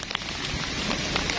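Rain falls outdoors onto surfaces, a close, steady patter with scattered individual drops ticking through a continuous wash.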